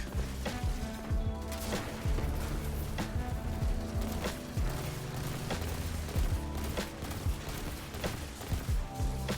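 Dense, continuous barrage of rocket blasts and heavy weapon fire in the shooter Destiny 2 during a Grandmaster Nightfall, with sharp booming impacts stacking rapidly over a constant roar of combat.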